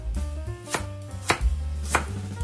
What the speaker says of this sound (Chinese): 然后在这个方向切碎，也是越细越好